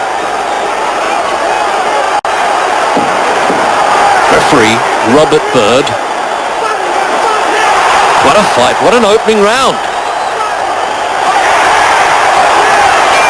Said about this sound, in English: just listen to that crowd behind Lopez